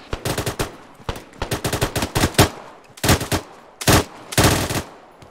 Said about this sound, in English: They're shooting in base